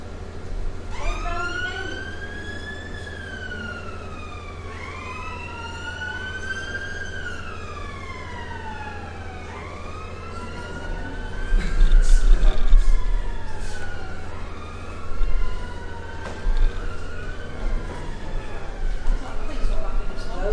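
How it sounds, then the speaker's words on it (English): An ambulance siren wails up and down repeatedly, rising and falling in loud sweeping cycles over traffic noise, with brief engine rumble midway. "when people can't let an ambulance through"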